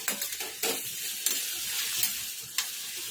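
Raw mango pieces for an instant pickle are stirred in a pan as they cook, with spoon scrapes landing every second or so over a steady close sizzle.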